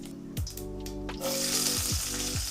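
Mustard seeds hit hot oil for a home-cooked tomato sambar, and a close, steady sizzle swells up after a soft clatter, crackling on over a low kitchen hum.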